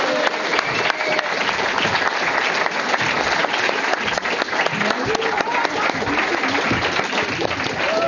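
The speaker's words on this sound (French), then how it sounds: "en tout cas applaudissons Biquette" Audience applauding a goat named Biquette as she makes her entrance, sustained loud clapping with whistles and shouts mixed in, voices audible over the crowd.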